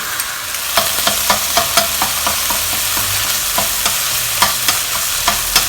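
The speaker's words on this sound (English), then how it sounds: "Fry it on its own for a little while. You want to get the red chili oil out, so we need to fry this up." Spicy fragrance sauce frying in a wok, a loud close sizzle punctuated by regular sharp spatula clacks against the metal, about two per second, with no talking.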